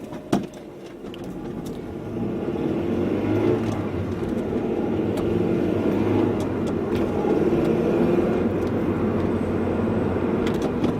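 Heard from inside a moving car on a drive, a steady low engine drone and road rumble with occasional clicks and knocks, fairly quiet and continuous, with no talk.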